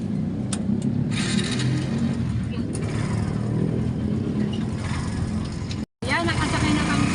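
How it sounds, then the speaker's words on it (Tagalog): A motorized tricycle ride in the Philippines, its small engine running with a steady, rattly drone and occasional revs close by. The sound cuts out briefly near the end. "nakasakay na kami sa tricycle"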